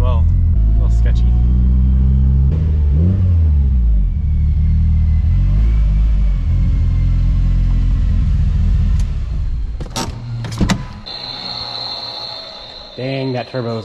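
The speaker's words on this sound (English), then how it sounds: "Dang, that turbo is loud." A turbocharged car engine revs and accelerates with a deep, loud rumble up close, easing off near the end amid sharp mechanical clicks.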